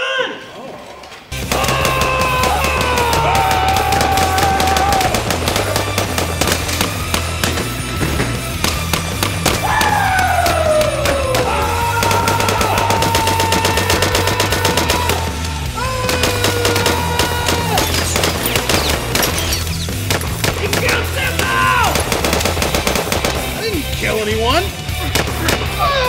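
Loud, dense gunfire from a staged shootout, rapid bursts and shots running almost continuously over a steady musical bed, with voices mixed in throughout.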